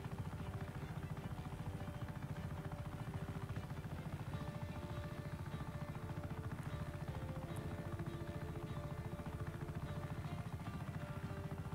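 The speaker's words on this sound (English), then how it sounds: "This chopper could be a bit faster." A helicopter flies at speed in Just Cause 3, giving a constant, even rotor buzz and engine hum with rapid blade chop, moderately quiet and unbroken throughout.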